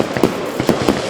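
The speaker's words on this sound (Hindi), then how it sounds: "मूवीज में पटाखों की आवाज होती है उसे कार को गुब्बारे के ऊपर चला के बनाते हैं।" Car tyre rolling over balloons to make a firecracker effect, giving about four sharp, loud pops in quick succession at close range within about a second.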